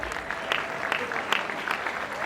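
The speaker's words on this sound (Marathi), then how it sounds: "ओम साठी टाळ्या वाजवा" A crowd at a Marathi film success party applauding for Om, brisk continuous clapping with sharper individual claps standing out and a faint voice beneath.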